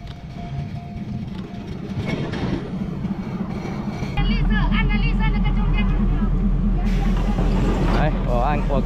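Train at a small railway station near Bangkok, a steady low rumble that grows heavier partway through, with squeals and clatter and people chattering nearby.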